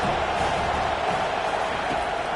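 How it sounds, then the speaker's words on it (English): Steady stadium crowd roar from a college football video game, UCF against Tennessee, a broad continuous wash of noise with no clear peaks, holding level under the play. "this crowd trying to help keep them there"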